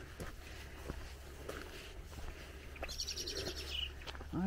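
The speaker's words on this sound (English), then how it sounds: "I hear you, blackbird." A blackbird sings faintly in the distance outdoors, its short melodic phrases rising above a quiet background of low rumble and scattered footstep-like knocks.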